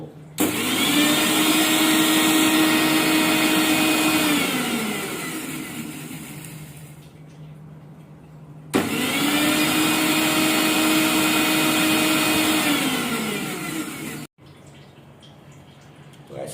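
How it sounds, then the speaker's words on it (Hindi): Electric mixer grinder blending coffee, a loud steady motor whine that runs for several seconds, winds down, then starts again for a second run before cutting off abruptly. "मिक्सी में अब धीरे धीरे कभी अप कर दिया, कभी लो कर दिया"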